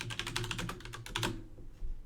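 Quick bursts of computer keyboard keystrokes as a search is typed, close and crisp, a rapid run of clicks that stops abruptly near the end.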